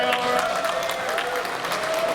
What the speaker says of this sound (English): big round of applause for RL Osborne, the legend